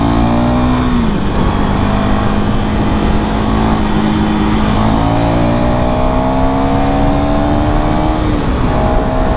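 A 2024 KTM Duke 390 single-cylinder motorcycle pulls hard under acceleration, its engine note loud and close as the pitch climbs through the revs, with steady wind rush and one brief dip before it rises again.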